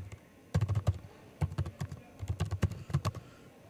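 Login details being typed on a computer keyboard, heard as close, quiet bursts of rapid key clicks in uneven runs with brief pauses between them.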